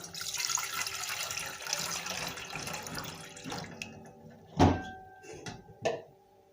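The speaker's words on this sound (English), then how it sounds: "In our pots, we will add in some water." Tap water runs steadily into a cooking pot being filled for blanching tomatoes for soup, then cuts off, followed by a couple of loud clunks of the pot being handled, with no talking.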